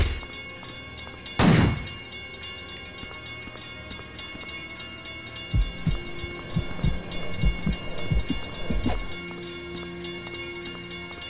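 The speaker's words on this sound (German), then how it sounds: "Kommt doch ein Zug, oder?" An approaching train in the video game Michigan: Report From Hell, with rumbling rail noise and clacking surges building through the back half after a sharp early burst, moderately loud with no talk.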